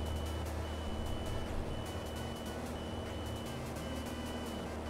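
A cockpit warning in an A2A Piper Cherokee PA-28-180 in the Prepar3D flight simulator beeps in a steady repeating rhythm over the continuous drone of the engine, with no voices.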